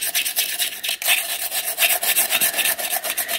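Almond milk ice cream is scraped off the inner sides of a DASH ice cream maker, a steady series of close, rhythmic rasping strokes with no voices.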